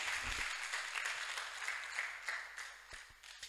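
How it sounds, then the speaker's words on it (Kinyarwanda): A church congregation applauds together, a dense, sustained wash of clapping that holds steady for a few seconds with a few sharper claps near the end. "Iyo Mana reka tuyikomera amashyi menshi"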